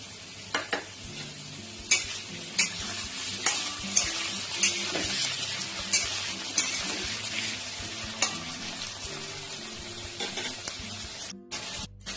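Chopped tomato fries in a pan for a paneer and potato curry, a soft steady sizzle broken by repeated close scrapes and stirring strokes at uneven intervals, no talk.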